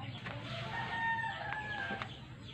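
A Peruvian bloodline gamefowl rooster on a backyard game farm in the Philippines gives a single clear crow at moderate distance, with faint farmyard clucking around it.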